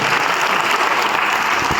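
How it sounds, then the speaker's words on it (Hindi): Loud, dense audience applause at a business gathering in Shimla, continuous clapping from a large crowd without a break. "मैं चाहता हूं कि एक जोरदार ताली मोरल ग्रुप ऑफ कंपनी के लिए बजाएं"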